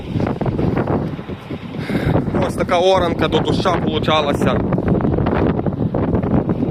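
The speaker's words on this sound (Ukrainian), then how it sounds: "Вітер, вітер, страшний такий вітер." Wind blows across an open field during heavy ploughing after rain, a low rumbling buffet on the microphone that runs throughout beneath someone talking.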